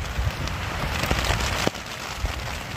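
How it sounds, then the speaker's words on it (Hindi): Heavy storm rain pours steadily at a campsite in India, a dense continuous hiss with scattered louder drops and patters close by, no voices. "देखो कितनी तेज बारिश आ रखी है"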